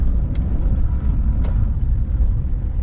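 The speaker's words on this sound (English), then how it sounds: "That's a huge truck." A huge truck on a road near Nakuru, heard as a loud, steady low rumble of heavy traffic and road noise, with a couple of brief higher hisses.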